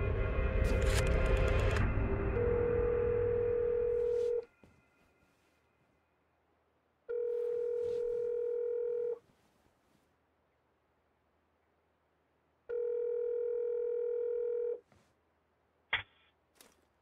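Telephone dialing and tones from the video game Syberia: The World Before: an opening burst of clicks and tone, then two separate steady electronic tone bursts about two seconds long with silence between, ending in a sharp click.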